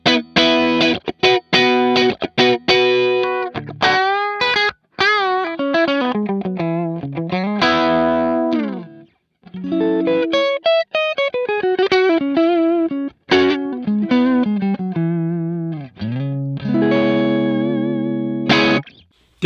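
Bright electric guitar with P90 pickups played through a Line 6 Helix with EQ shaping. Picked chords and melodic runs ring out with a crisp, slightly driven, chorus-tinged tone and short gaps between phrases, with no talking over them.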